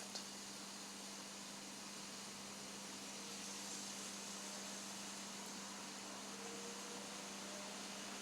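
A Ninja AG551 smart grill runs with a steady, faint whirring hum and a low constant tone, unchanging throughout with no voices.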